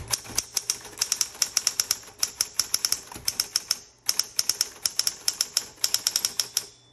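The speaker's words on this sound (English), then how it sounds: "So you can see I'm still typing at a pretty good pace." A repainted 1960s Smith Corona Coronet manual typewriter with a cursive typeface clacks through rapid, close keystrokes at a brisk pace, broken by one short pause, with no talking.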